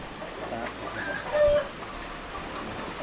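Chickens cluck near a rural village home in a cool, rainy countryside, with a louder clucking burst midway over steady outdoor background noise.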